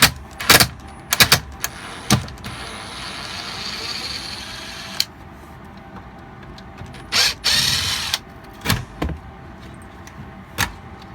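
A ratchet works loose a heater on a Sporlan valve, giving sharp clicking bursts in uneven clusters with brief pauses, close and loud over a quiet background.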